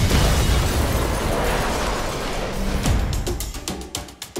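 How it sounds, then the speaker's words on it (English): A bomb detonates in a film trailer, a big roaring blast that rumbles and decays over several seconds, followed by crackling debris and sharp pops as it fades, loud and with no speech. "It's a very small bomb."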